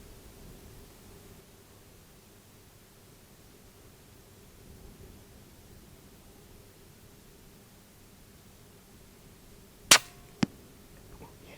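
A Daystate Red Wolf air rifle fires at a spring hare on a night hunt. One sharp crack cuts through a quiet, hissy outdoor background and is followed moments later by a second, smaller snap.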